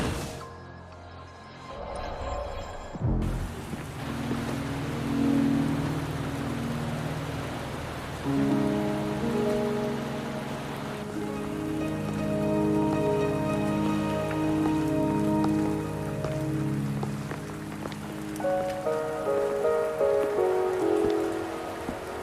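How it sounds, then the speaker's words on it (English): Rain falling in the video game Wuthering Waves: a steady hiss of rainfall over a surface, continuous for the whole stretch beneath soft game music, with no voices. "Are you trapped here by the rain?"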